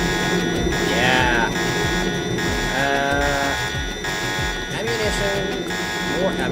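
Alarm buzzing in the Deus Ex game, a continuous loud electronic tone droning throughout with footsteps and other game noises underneath.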